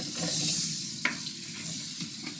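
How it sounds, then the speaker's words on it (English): Onions and spices sizzle in hot olive oil in a pan with a steady close-up hiss, broken by a couple of sharp clinks and stirring scrapes. "Just smell those spices sizzling up your nostrils"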